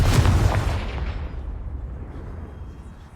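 A Confringo explosive spell blast from the Hogwarts Legacy video game bursts loudly at the start, then rumbles and fades into a long, dark decaying tail with no talk over it.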